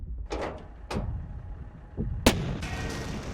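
A tank gun fires at a Panther tank in a WW2 strategy video game, a sharp loud blast followed by a lingering rumble, after a few softer muffled thuds.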